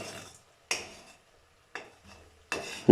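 A spoon stirring sugar syrup in a pan while making crispy goja sweets: three or four separate, close scraping strokes with quiet gaps between them, no voices.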